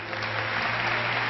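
Audience applause from a crowd at a rabbi's lecture, a steady dense clapping that fills the whole short moment.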